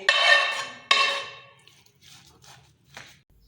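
Vegetables being mixed into raw kabab mince in a bowl for vegetable kababs, heard as two loud scraping clatters followed by softer, fainter mixing scuffs close by.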